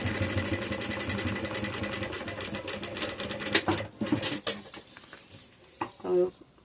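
A sewing machine runs steadily for several seconds, stitching the side seam of fabric for an Easter egg chocolate holder. It then stops, followed by a few irregular handling clatters and bumps.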